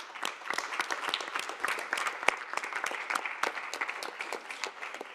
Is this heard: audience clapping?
yes